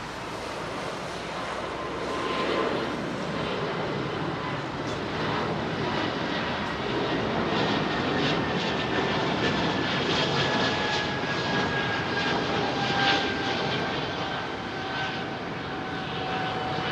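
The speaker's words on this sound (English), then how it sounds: "Bypass ratio, proper modern jetliner." Modern high-bypass jetliner at London Heathrow Airport runway 27R, a steady broad roar with a faint whine, heard from a distance and holding level throughout without talk.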